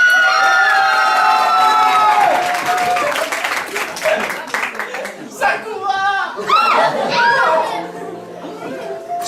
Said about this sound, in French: Je vous demande d'applaudir bien fort Sakura et Mokona Noir de Tsubasa Reservoir Chronicle